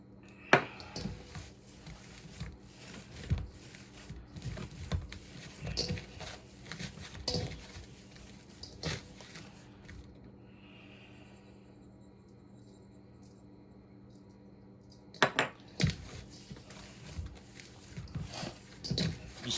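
Ground venison sausage meat being worked by hand with seasoning, giving soft, irregular squelching pats and presses close up, with a quiet pause in the middle before the mixing resumes.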